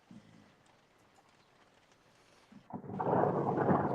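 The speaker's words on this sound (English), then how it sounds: "Oh, the thunder," Thunder rumbling during a storm, faint at first and then swelling into a loud, sustained broadband roar in the last second, with no talking over it.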